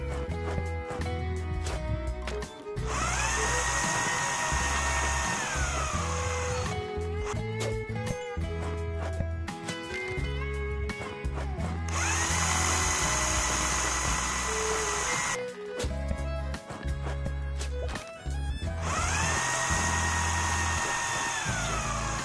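In the video game House Builder, a power screwdriver drives screws in three repeated high whirring bursts separated by pauses, over continuous game music and clatter.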